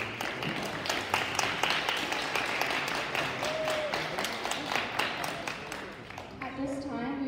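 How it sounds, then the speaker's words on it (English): Sustained, dense applause from a concert audience after a secondary school intermediate concert band performs, steady for about six seconds before thinning out as a voice comes in. "Let's all give these amazing performers one more big round of applause."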